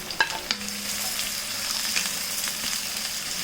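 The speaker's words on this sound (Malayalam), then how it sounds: "ഈ സവാളയും കൂടി ഇതിലേക്ക് ഇട്ടിട്ട് വഴറ്റി കൊടുക്കാം." Three medium sliced onions sauté in oil in an iron pan, giving a constant close sizzle with a few light clicks and scrapes from stirring, with no voices.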